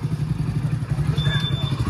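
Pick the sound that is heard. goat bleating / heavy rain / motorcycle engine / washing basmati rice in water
motorcycle engine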